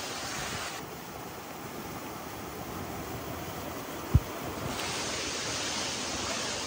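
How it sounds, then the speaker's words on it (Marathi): Steady broadband rush of heavy falling water, continuous and fairly loud, with a single brief knock partway through; no voices. "हे बघा धबधबा"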